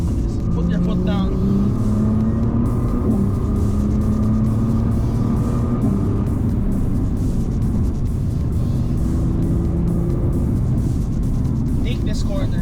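Nissan GT-R R35 pulling hard on a winding mountain road, a dense, steady engine roar with a slowly rising tone. It sounds close and loud, with a voice speaking over it.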